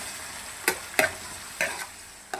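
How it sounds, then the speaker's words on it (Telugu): Tomatoes cooking in oil in a pan, heard as a few brief, close scraping stirs over a soft background sizzle, with no talking. "ఇప్పుడు కొంచెం ఆయిల్ వేసి టమాటాలు వేస్తున్నాను."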